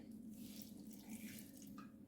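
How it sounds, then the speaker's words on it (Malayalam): Water runs into a pressure cooker holding beetroot and dates, a quiet continuous pour with a faint hum beneath it and no talking. "ശകലം വെള്ളം ഒഴിക്കാം"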